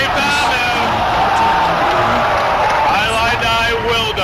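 A Dota 2 grand final crowd at the Nanyang Championship reacts with a loud, sustained roar of cheers and whoops, dense and steady throughout.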